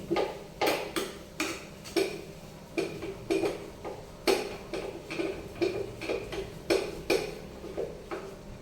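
A spoon beats besan batter seasoned with red chilli powder in a bowl, a brisk run of repeated clinks and taps against the sides at an uneven rhythm, close and clear.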